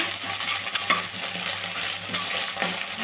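Ginger garlic paste stir-fried in a hot pan for a pea chaat masala, giving a steady sizzle with repeated spoon scrapes and a few sharp clinks, close by and with no voices.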